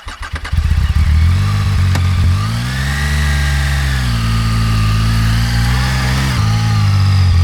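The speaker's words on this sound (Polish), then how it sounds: "Jak pas spadł, od razu motocykl stanął i zaczął mielić." An adventure motorcycle stalls on a steep climb as its rear wheel spins, and the engine roars loud and close in a sustained, wavering rev.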